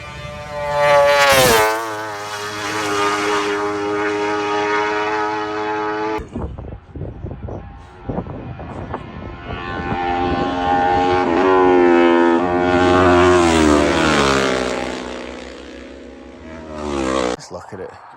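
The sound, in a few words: racing motorcycles passing at Isle of Man TT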